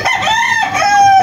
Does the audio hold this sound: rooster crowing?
yes